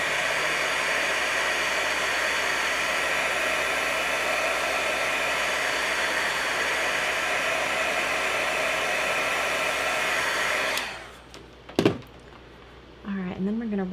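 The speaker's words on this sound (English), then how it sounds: "That red up there isn't dry, so I'm going to hit it with my heat tool." A craft heat tool blows hot air to dry red watercolor paint on a slimline holiday card, giving a loud, steady roaring whoosh for about eleven seconds before it switches off, followed by brief handling clatter and a voice.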